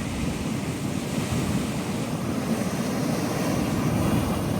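Rough, continuous roar of a stormy sea at Jafrabad, Gujarat, near Ratneshwar Mahadev temple, heavy surf and wind, waves crashing without pause, loud and close.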